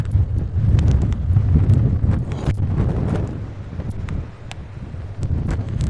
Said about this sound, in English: It's blowing a hoolie.